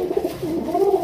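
Pigeons kept on a Bangladeshi breeding farm give soft, throaty coos that repeat in low, rolling phrases, close and clear with no other sounds.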